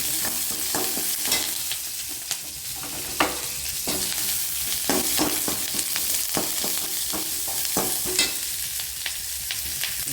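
Sliced big onions fry in a pan with a constant close sizzle, and a spoon scrapes and stirs through them in repeated irregular strokes.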